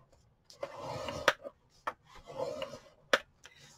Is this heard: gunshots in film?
no